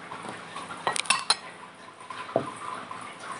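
A metal spoon clinks against dishes in a few sharp, close taps, a quick cluster near the start and one more later, over a quiet room background.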